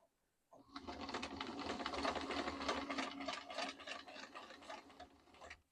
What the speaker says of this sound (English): I decided I had to get my machine out and sew the strap I bought